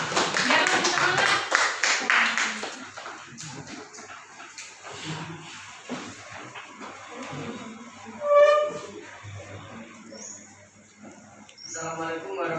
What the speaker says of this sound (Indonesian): Tepuk tangan untuk kelompoknya Para.